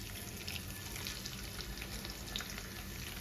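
Sliced onions tipped into very hot oil for a vegetable dum biryani, giving a steady, close, dense sizzle and crackle that holds without pause, with no talking.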